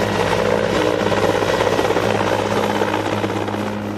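Helicopter rotor and engine drone close and loud, a steady thudding hum with a constant whine that holds unbroken throughout, no voices present.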